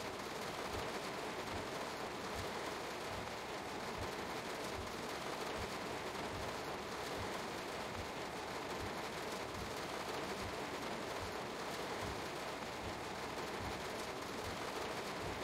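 Steady rain falls around an S-Bahn BR 422 train on the S1 line in the Rhine-Ruhr area, a continuous dense patter with heavier rhythmic drops and thumps throughout, no talk.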